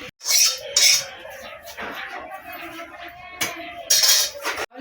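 A pot of koi fish curry with bottle gourd stems is tipped out after the gas is turned off, with clattering metal and scraping spoon knocks in short bursts close by.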